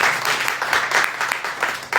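An audience at an artist talk during an art exhibition claps, a close, dense burst of applause that swells and ebbs for two seconds.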